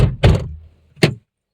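A household door in a Tamil-speaking home is pushed shut, giving two quick solid thunks about three-quarters of a second apart, close and fairly loud, with no talk over them.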